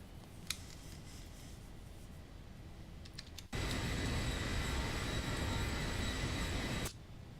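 Boeing 737-800 jet engines in X-Plane 12 spool up to a loud, steady broadband roar for several seconds at takeoff, then cut off abruptly, with faint clicks beforehand.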